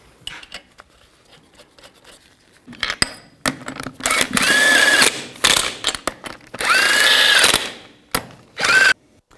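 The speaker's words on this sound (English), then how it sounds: "Put the tire back on. And the lug nuts." Reinstalling the front wheel on a Ford E250 van with power tool bursts as lug nuts are run on, several loud whirring drill-like pulses alternating with metallic clinks and handling noises, close up, no talk.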